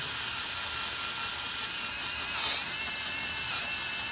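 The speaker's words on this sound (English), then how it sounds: "I'm just going to keep drilling. I'm drilling slowly." A steady high-pitched whine of a power drill running continuously at a constant, slow pace, drilling into a C3 Corvette 350 small-block cylinder head, with no voices.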